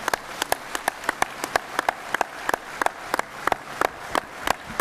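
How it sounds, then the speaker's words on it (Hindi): Sparse, scattered hand claps from an audience honouring a group of ten people at a Patanjali village-industries gathering in Haridwar, India; individual claps ring out irregularly and fairly close, with no voices over them. "तो एक बार जोरदार तालियां हो जाए इन सब के लिए।"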